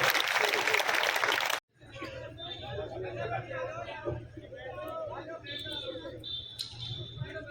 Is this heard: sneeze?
no